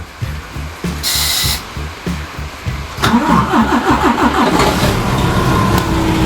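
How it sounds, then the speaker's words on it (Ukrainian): A DAF XF truck engine is cranked using a CARKU 24V jump starter, rhythmic loud starter churning for about three seconds before the diesel catches and settles into a rough, throbbing idle close by. "Це ми заводили DAS DAF XF без акумулятора"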